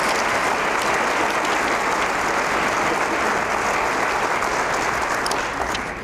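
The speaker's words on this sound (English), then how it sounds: "Please give them a huge round of applause." An audience at a superintendent's breakfast event applauds teachers and staff, sustained loud clapping from a full room lasting throughout and easing slightly at the end.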